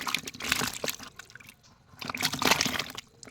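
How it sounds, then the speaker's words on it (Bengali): Live snakehead (taki) fish flap and thrash in shallow water in a container, sending out bursts of wet splashing and slapping in two clusters separated by a brief lull, close and fairly loud. "এই মাছগুলি কিন্তু হেভি ছটর ফটর করে"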